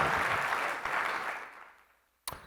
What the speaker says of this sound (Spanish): Le deja el aplauso al Señor ahí donde estás.